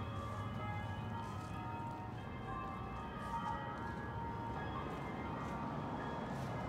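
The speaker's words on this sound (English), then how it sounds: "Listen to those church bells." Church bells ring at a distance in North Adams, Massachusetts, a faint, sustained metallic tolling over a steady outdoor hum.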